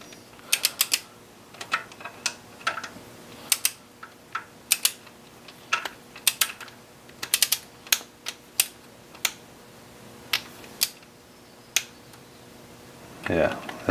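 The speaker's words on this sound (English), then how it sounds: "Just for the fun of it, I put my torque wrench to 1 foot-pound." A torque wrench set to 1 foot-pound, fitted with an extension and adapter, being worked on a BMW 2004 325xi engine during a chain guide install: a steady series of sharp close ratcheting clicks, irregularly spaced, throughout.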